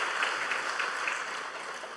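A church congregation breaks into warm, sustained applause, a dense wash of clapping from a large crowd that holds fairly even before easing slightly toward the end.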